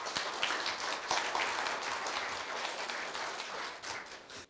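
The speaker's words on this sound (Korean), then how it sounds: "따뜻한 박수로 염재호 총장님을 맞이하여 주시기 바랍니다." Audience applause at a Korea University staff retirement ceremony, welcoming the university president to the podium: steady, dense clapping from a crowd in a hall, sustained at even loudness for several seconds before trailing off at the end.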